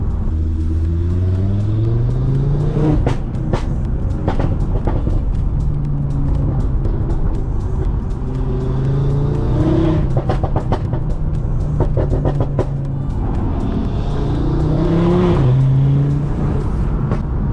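A 2019 Audi RS3 with a Milltek exhaust, turbocharged, roars loudly and close, revving hard several times with rising pitch sweeps and sharp crackles between pulls.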